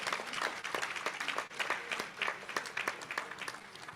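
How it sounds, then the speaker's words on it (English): Audience applause at a leadership colloquium honouring a pastor's birthday, a steady sustained clapping from a full room that carries on unbroken for the whole stretch. "Please, let's give him a round of applause."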